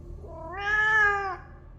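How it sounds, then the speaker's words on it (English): A cat cries outside a window at night, a single drawn-out rising and falling meow that swells in the middle and fades, heard alone over a low background hum. "I heard a cat crying outside of my window"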